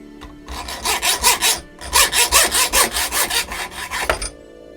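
A metal arrowhead pin is sawn to length with quick back-and-forth strokes, about a dozen rhythmic rasping pulses in two runs separated by a short pause, close and loud, ending with a small clink.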